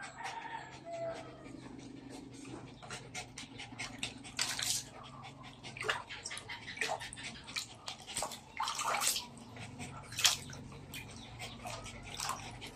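Water splashes and drips as a dog is bathed in a basin, with irregular close splashes throughout. A voice speaks quietly at times.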